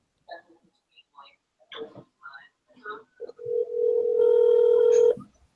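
A telephone number being dialed, a brief pattern of short keypad tones, then a loud steady ringback tone holding about two seconds, following several short bursts of speech.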